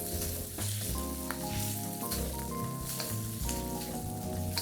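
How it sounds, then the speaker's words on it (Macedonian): Oil sizzles in a well-heated wok for pulled-meat burgers, a steady hiss running the whole time beneath louder, melodic background music. "Убаво загрејана тава, пропржете го маслото за да ги активирате сите вкусови"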